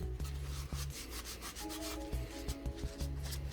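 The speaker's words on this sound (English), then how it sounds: "Now at the lower, same thing, just give it a good wiping." An IWI Jericho 941 pistol's lower frame is wiped down with a cloth, giving close, steady rubbing and scrubbing strokes over the ridged frame, with brief tonal squeaks midway through.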